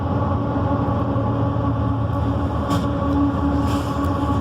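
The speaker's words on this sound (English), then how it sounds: "Train!" A train rumbles past close by with a steady, loud rolling roar and faint wheel squeals, filling the whole moment with no voices.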